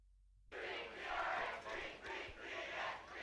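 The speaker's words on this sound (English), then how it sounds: "the home team is cheering the fight song, singing the fight song after 4 quarters have gone off the board" Home team crowd singing the fight song after a high school football game, Columbus North vs. Terre Haute South, a loud massed chant starting abruptly and swelling in rhythmic waves, heard from a distance.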